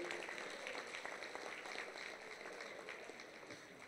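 At a 2014 Wildcat football championship banquet, the audience applauds the strength and conditioning staff with a dense, even wash of clapping that sounds faint and distant and slowly tapers off.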